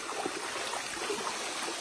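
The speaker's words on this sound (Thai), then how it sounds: "มาฮอตน้ำตกตาดแล้วเนาะ" Water of the Tat waterfall in a Thai forest streams and trickles steadily, a continuous close rushing wash with small gurgles and no talk over it.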